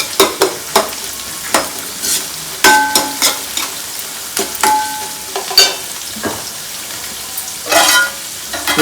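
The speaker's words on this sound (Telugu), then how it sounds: "మంచిగా ఫ్రై చేసుకోవాలి" Fish pieces frying in a pan for Telangana-style chepala pulusu, loud close sizzling with frequent rapid clinks and scrapes of a utensil against the pan, uneven in rhythm and free of speech.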